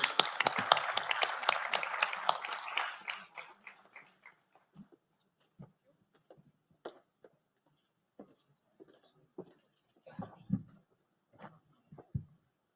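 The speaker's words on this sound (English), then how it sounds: "A huge round of applause." Dense clapping from an audience for a few seconds, thinning out into scattered claps and small knocks before fading.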